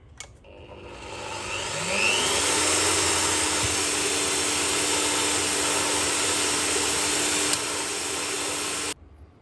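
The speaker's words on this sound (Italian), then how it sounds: "ora che il circuito stampato è pronto lo dobbiamo forare" A small drill runs steadily for about seven seconds while boring holes in a homemade printed circuit board. It has a rising spin-up whine, a constant motor hum and a sharp stop, recorded close and loud with no talk.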